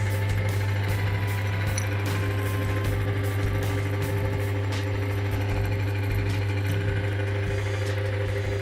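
A motor engine treated with EZI engine treatment mixed into the motor oil runs steadily nearby, a continuous mechanical hum with a fine rapid ticking and light knocking throughout.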